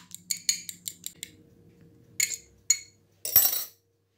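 A spoon stirs beaten egg with nearly set butter in a bowl for a pastry, giving a quick run of light metallic clinks, a pause, a few more taps and then a louder scraping clatter, close by.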